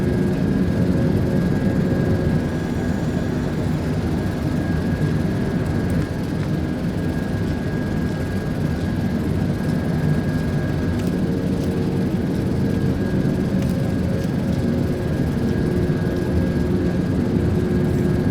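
Steady engine drone of a Boeing 747-8 in a flight simulator game, a continuous low roar with a faint tonal whine holding evenly throughout, no talk.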